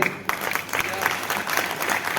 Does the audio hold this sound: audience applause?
yes